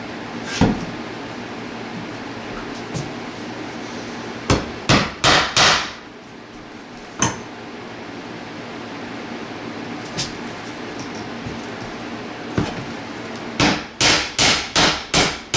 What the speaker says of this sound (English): So we're just going to put this one nail in to hold it up temporarily.